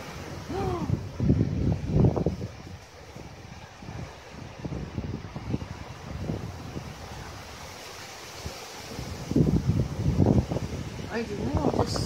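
Gusty morning wind in Johor Bahru, Malaysia buffets the microphone in rough bursts, with surf-like roaring surges rising and falling throughout.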